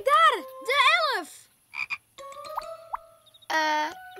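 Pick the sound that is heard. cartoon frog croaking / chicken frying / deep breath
cartoon frog croaking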